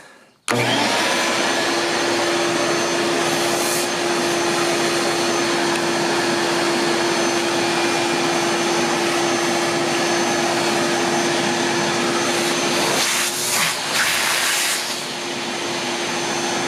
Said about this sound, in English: let's turn this on and suck up some dust.